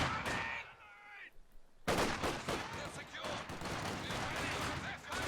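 MG42 machine gun fire in the video game Company of Heroes 2 crackles in rapid bursts amid other battle gunfire, loud and dense, with a commentator talking over the action.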